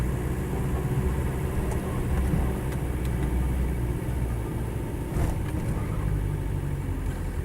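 A Land Rover 90 with a 2.5 TD diesel engine runs steadily, its low, continuous rumble close and even throughout with no other sounds.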